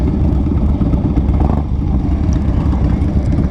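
A 2016 Harley-Davidson Road Glide Special idles and blips through a Thunderheader exhaust, loud and close, with a deep, lumpy, uneven rumble and brief rises in revs.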